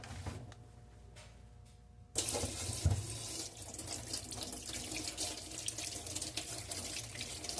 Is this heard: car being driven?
no